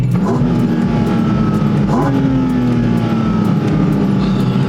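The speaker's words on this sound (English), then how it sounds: "Just listen to the sound and when it downshifts, that's so lovely." A Porsche 911 GT3 RS engine roars loudly and continuously at Sepang circuit, revving up with a rising pitch and dropping as it downshifts, close and sustained.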